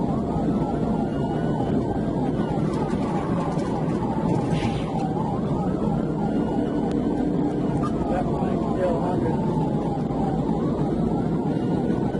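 Police sirens wail and sweep up and down during a high-speed chase, through a constant roar of engine and road noise, with voices murmuring underneath.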